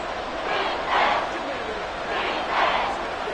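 A stadium crowd roars in the Madden NFL 24 football video game during a Las Vegas Raiders vs. Kansas City Chiefs matchup, a steady ambient bed that swells twice into louder cheering surges.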